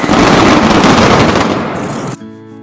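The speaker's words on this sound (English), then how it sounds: "Here, the sound of music bands and the explosions of the daily masquerade, where the smell of gunpowder fills the air." Firecrackers at the Fallas festival burst in a loud, rapid-fire barrage of crackling explosions, packed tightly together like gunfire, before cutting off abruptly and giving way to a tonal musical sound.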